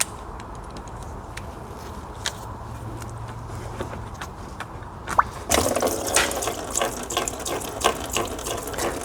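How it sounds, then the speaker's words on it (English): Coolant draining out of a Tesla large drive unit motor during a rebuild, starting as quiet dripping and then turning into a steady, close splashing pour into a container. "We'll go ahead and drain the coolant out of the motor itself."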